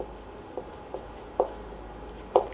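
Pen writing during a Class 12 calculus lesson on differentiation, quiet scratching strokes with a few sharper taps spaced out across the clip, close and with no talking.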